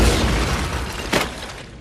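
A cartoonish cannon fires in a small business loan advert, a single short boom burst rising briefly over a dense, continuous music bed before fading.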